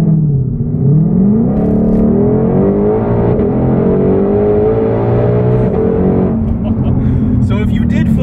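Ford Mustang Shelby GT500 roaring loudly through a burnout, engine note rising and sweeping in pitch with a steady, continuous rumble over the whole stretch, a voice breaking in briefly.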